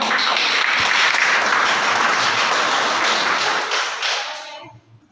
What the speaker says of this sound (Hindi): आप देख रहे हैं एसबीआई कार्ड में तालियां हो जाएगा